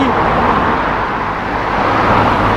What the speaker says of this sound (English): You know, all the car noises